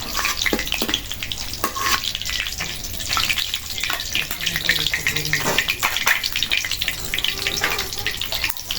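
Snakehead and wallago catfish sizzle and crackle in hot oil, loud and close, with occasional stirring clinks and a voice speaking now and then.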